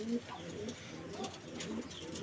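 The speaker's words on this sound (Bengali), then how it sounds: "অনেক সুন্দর কবুতর জোড়া।" A pair of giribaz pigeons coo softly in low, repeated murmurs, faint and fairly close in a quiet setting.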